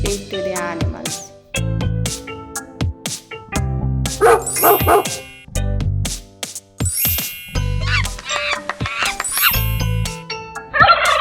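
A dog barks among a rapid run of farm and zoo animal calls, including a gobbling turkey, a monkey and a duck, in a children's animal-sound sequence with short bright sound effects between the loud, repeated calls.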